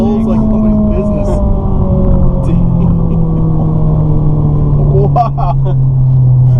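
Ferrari 458 engine pulling hard from inside the cabin on a ride-along, a loud continuous drone that rises in pitch and then shifts, with brief voices over it.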